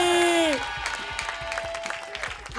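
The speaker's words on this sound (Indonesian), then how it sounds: "Kasih tepuk tangan dong buat" Scattered audience applause builds in a TV studio as a sustained musical tone fades out, the clapping staying light and uneven beneath the music.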